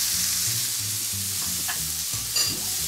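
Pork roasting in a pan for linguini with pork, a steady frying sizzle with light stirring or scraping, continuous and fairly close throughout.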